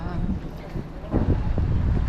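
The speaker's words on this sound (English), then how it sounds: "it's pretty windy, and I can hear it inside." Wind roars and buffets against the microphone in low rumbling gusts on Walnut Street, strengthening partway through, with no voices.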